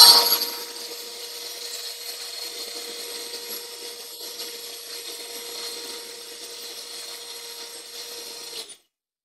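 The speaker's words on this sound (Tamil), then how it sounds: "இப்போ நம்ம வந்து லைட்டாக ஜென்டிலாக ஒரு பீட் பண்ண போகிறோம்" Electric beater gently whipping a badam ice cream mixture, a steady high mechanical whir that runs evenly for several seconds after a brief clatter at the start, then stops abruptly; close and alone.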